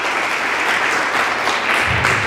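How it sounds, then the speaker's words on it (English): An audience at a youth summit breaks into a dense, steady round of applause, loud and close, sustained for the whole stretch with no voices over it. "I love that round of applause, everybody."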